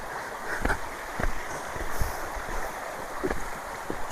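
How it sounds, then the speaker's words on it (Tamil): A forest stream flows beside a trekking path on the way to Aare Falls, giving a steady broadband rush of water with a few faint knocks and no voices. "போகிற வழியில் இந்த மாதிரி ஓடையெல்லாம் பார்த்துட்டு போகலாம் அழகா"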